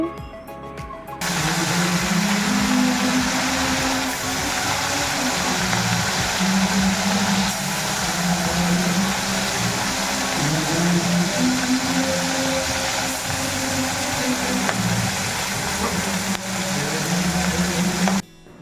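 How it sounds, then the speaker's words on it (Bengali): Fish fry in hot oil in a wok for a Bengali fish curry, with turmeric added, giving a continuous loud hissing sizzle over a low steady hum for the whole stretch. "ফাইনালি দেখো আমি এখন মাছগুলো ছেড়ে দিচ্ছি তেলের মধ্যে"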